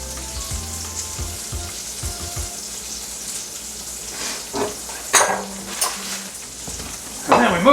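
Slices of bologna fry in a hot pan for Southern-style fried bologna sandwiches, giving a continuous crackling sizzle with occasional utensil clinks and scrapes, close up and with no talking.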